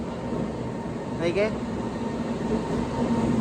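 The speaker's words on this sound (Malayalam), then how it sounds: "എറണാകുളത്ത് നിന്നും പട്ന വരെ വരുന്ന ഒരു സ്പെഷ്യൽ ട്രെയിനാണ്" Steady rail rumble from an Ernakulam–Patna special train of old ICF coaches hauled by a goods locomotive at Patna Junction, with a brief rising whine in the middle and faint voices in the background.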